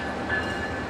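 A train locomotive shunts at Cirebon station, a low steady rumble of rolling stock and engine hum with a faint high whine, heard from nearby in a brief continuous stretch.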